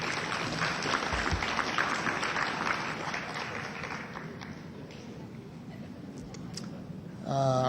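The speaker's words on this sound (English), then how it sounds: "give them a round of applause" Audience at a city address applauds city workers, a steady wash of clapping at moderate distance that slowly fades, with a brief louder voice at the very end.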